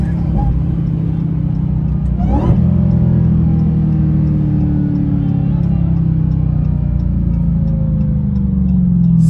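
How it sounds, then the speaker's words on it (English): A supercharged 2020 Dodge Charger Hellcat Widebody idles loud and close with a steady low engine drone and supercharger whine, one short sweeping rev near the start, while a voice talks over it. "Supercharger sounds absolutely crazy."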